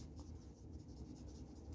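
Pen writing on paper while a linear combination is written down, a faint continuous scratchy stroking in a quiet room.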